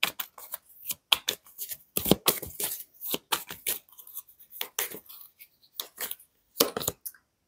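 Tarot cards shuffled and laid out one by one during a reading, a close run of crisp flicks, snaps and soft slaps in an irregular rhythm with short pauses, no voices.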